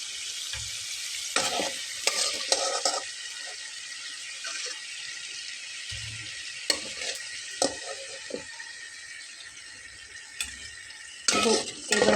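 Aloo puffs fry in hot oil with a steady hiss and sizzle, broken by occasional scrapes and stirring clatter from a utensil in the pan.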